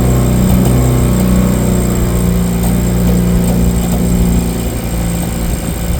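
The pony motor on a John Deere 830 Industrial tractor runs steadily after starting, a loud, close, continuous engine drone warming up with no talk over it.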